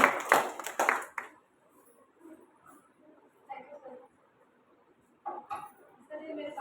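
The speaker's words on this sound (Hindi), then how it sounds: "एक जोरदार ताली बजनी चाहिए सुप्रिया मैम के लिए।" A school audience at a teachers' Independence Day celebration at St. Xavier's High School claps for Supriya ma'am in a brief, fairly close burst of applause that fades after about a second, followed by quiet murmuring and a voice speaking.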